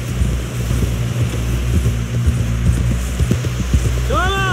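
Horse hooves clip-clop steadily at close range while riding in Red Dead Redemption 2, a continuous rhythmic trot under a low rumble of movement and occasional voices.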